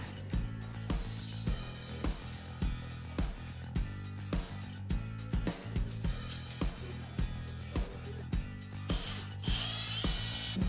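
A power drill boring holes for wall anchors while a bathroom mirror and vanity light are replaced: repeated short whirring bursts with clicks between them, close and fairly loud, in an uneven rhythm.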